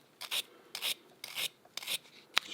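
Parts from a Singer 15-91 sewing machine are scraped clean at a worktable in five quick rasping strokes, close and fairly quiet, each about a quarter second long.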